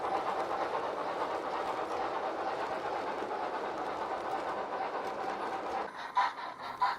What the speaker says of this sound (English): An LMS Stania Pacific with Crimson Lake carriages and an up main line train.